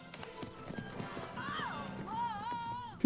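Rhythmic hoofbeats clopping at a quick pace, with a horse whinnying over them and a voice briefly audible.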